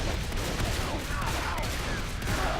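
Dense, continuous gunfire in a Natural Selection 2 esports match, with marines firing shotguns at Fades and Skulks. The shots are loud and tightly packed into a steady roar, with a caster's voice talking over them.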